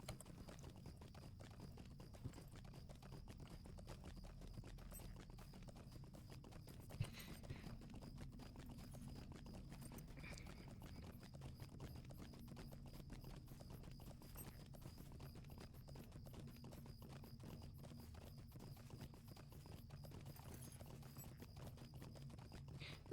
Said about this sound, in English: so now we're going to get on our horse